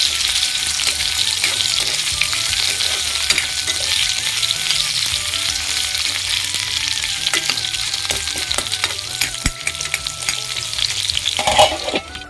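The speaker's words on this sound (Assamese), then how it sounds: "আৰু মই ইয়াতে আলু কেইপিচ প্ৰথম ফ্ৰাই কৰি লওঁ" Potato pieces fry loudly in hot oil seasoned with panch phoron, a dense continuous crackling sizzle with occasional stirring clatters and a brief watery splash near the end.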